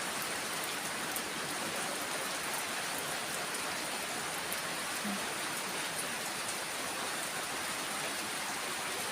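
Heavy rain pours down steadily over a flooding backyard area in Korat, Thailand, a dense, even hiss of water on surfaces that continues unbroken throughout.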